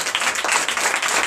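A church congregation applauds loudly during a Sunday service in Benin, dense rapid clapping filling the moment with no voices over it.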